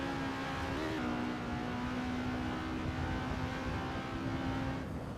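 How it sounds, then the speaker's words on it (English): Vintage 1960s Formula 2 race car engines at the Nürburgring drone steadily throughout, a sustained engine tone with a pitch shift near the start, at a moderate distance and quite loud. "It's still very loud, the car noises, the car sound, the engine."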